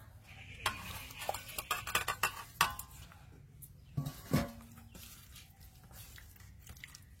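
Wet spiced paste for hilsa bhapa being stirred and mashed in a bowl, with soft squishing and intermittent clinks of a spoon against the dish, close and fairly quiet.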